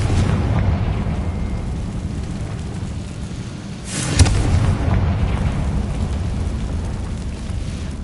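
Confringo fire spell explosion in the video game Hogwarts Legacy, a single sharp burst over a steady dense rumbling game ambience, loud and close.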